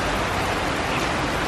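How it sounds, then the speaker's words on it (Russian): Heavy, warm summer rain shower pouring down outdoors, a dense, steady hiss of water with no breaks across the whole moment. "смотрите, какой у нас пошел ливень."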